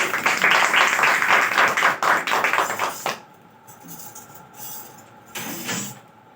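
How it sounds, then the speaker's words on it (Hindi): A congregation claps rhythmically during a church worship service, loud steady clapping that stops abruptly, followed by quieter room noise and a few faint sounds. "हम यीशु के लिए ताली मारेंगे"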